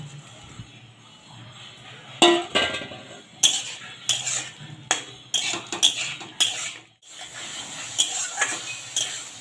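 A utensil scrapes and knocks against a pan as fried pointed gourd and egg are stirred into a poppy-seed masala, making a run of irregular clatters over a faint low sizzle.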